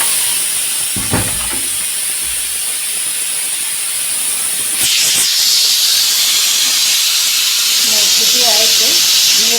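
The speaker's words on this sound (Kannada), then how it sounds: "ನೋಡಿ, ಸಿಟಿ ಕೂಡ ಬಂತು." Pressure cooker whistle letting off a steady, loud hiss of steam in a kitchen where tea is also boiling, starting partway and continuing to the end, with faint voices and a few brief knocks underneath.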